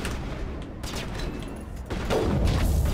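A few sharp sniper rifle shots crack in Mass Effect, spaced apart over a rumbling combat background.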